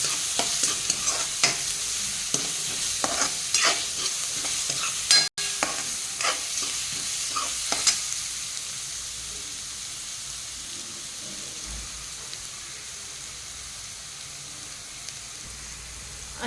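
Garlic paste frying in oil for a soybean paratha, heard as a steady soft sizzle, with a spoon stirring and scraping the pan several times early on before the bubbling settles into a quieter, even hiss.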